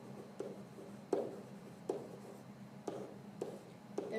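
A pen writes notes on paper in a quiet room, making soft scratchy strokes with sharper taps at roughly half-second to one-second intervals.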